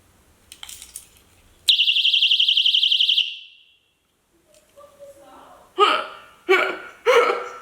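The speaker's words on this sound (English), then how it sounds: "It's my alarm!" A personal alarm keychain with a built-in torch going off, a loud piercing pulsed shriek lasting about a second and a half indoors, then stopping as people react with startled voices.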